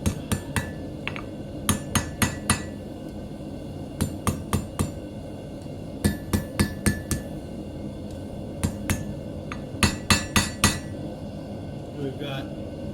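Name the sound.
hammering metal on an anvil while forging hairpins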